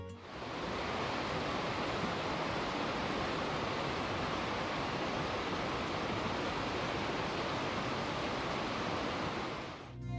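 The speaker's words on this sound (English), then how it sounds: "we couldn't resist stopping to watch and listen to this rushing stream" A rushing stream swollen after monsoon rains in southern Arizona, a loud, dense, unbroken roar of water that stays even throughout.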